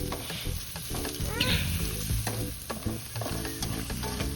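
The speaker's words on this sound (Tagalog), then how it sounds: "Pinapabrown ko lang din ang garlic. At yun, sinunod ko na ang onion." Garlic and onion sauté with a little pork in a pan, a close, steady sizzle broken by frequent scraping and clinking stirs of a spatula.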